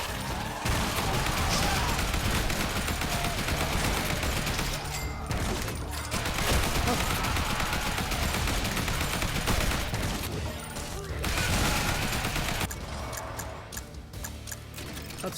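Shotgun and assault-rifle fire in a zombie survivors video game sounds as a near-constant dense barrage of rapid shots, loud and unbroken, with a few brief lulls.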